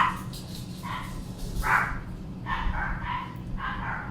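Several dogs bark in short bursts in the background of a room, some nearer and louder, the yaps coming irregularly over a low steady hum.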